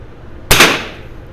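A single sharp crack from a French MAS Model 45 .22 LR bolt-action military training rifle at a shooting range, close and loud, with a short decaying tail into quiet.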